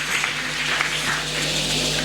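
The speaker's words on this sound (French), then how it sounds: "Applaudissons un peu pour la gloire de Dieu." A church congregation claps during a Sunday service, a steady dense wash of applause lasting a couple of seconds with no pauses.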